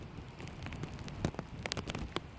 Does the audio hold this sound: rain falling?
yes